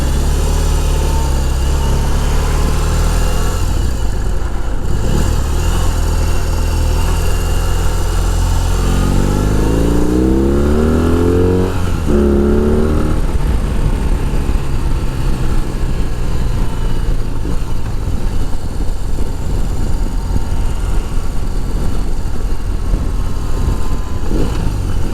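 A motorcycle engine drones loudly and continuously while riding, with a rising, climbing pitch midway as the bike accelerates under torque; steady wind and road roar persist throughout and no one speaks.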